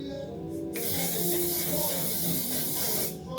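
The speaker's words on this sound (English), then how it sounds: "then I use the one size mattifying waterproof setting spray" A steady, broad hiss of a mattifying waterproof makeup setting spray running continuously for a few seconds, close to the microphone, with no talking.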